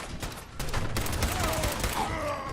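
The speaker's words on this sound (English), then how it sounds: "I'm just using a pipe pistol" A pipe pistol fires in a Fallout 4 battle, a rapid run of close gunshots layered with other gunfire and in-game effects, with a voice partly audible beneath the shooting.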